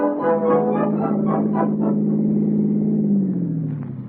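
A car rolls in at a service station for a spring oil change, its engine rumbling steadily and close by, with a low hum that drops slightly in pitch as it settles near the end.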